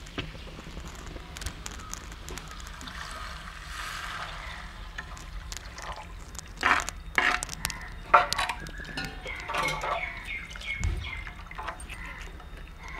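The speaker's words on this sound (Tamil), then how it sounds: "தேவையான தண்ணி ஊற்றிப்போம்." Water is poured into a clay pot of mutton curry that has been fried with mutton masala, with soft splashing and dripping, faint and intermittent, over quiet kitchen background.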